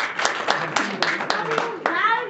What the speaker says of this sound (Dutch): Applaus voor Iria van Aijen.